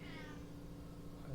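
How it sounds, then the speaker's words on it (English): A house cat meows at a door: one short, fairly close meow over a low background hum, heard on its own. "There's that cat."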